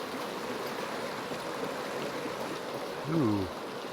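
Water from a stream in the Population Zero game flows in a steady, soft rushing trickle, with a brief voice cutting in near the end.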